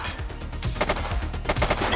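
Dense, repeated gunfire crackles without pause through a shootout in the Cops & Knobbers video game, with overlapping shots keeping the level high throughout.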